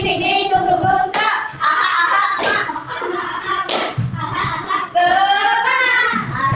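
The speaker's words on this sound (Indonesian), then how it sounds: "Asik tepuk tangan." Children in a classroom clap their hands in a few sharp, rhythmic bursts between sung, chanted phrases, with the claps standing out loud and close.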